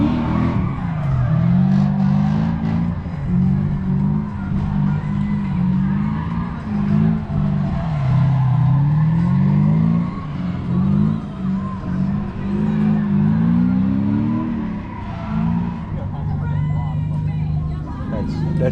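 A drift car engine revs repeatedly in rising and falling sweeps during early practice before a drift night, loud and continuous, with crowd chatter and people talking underneath.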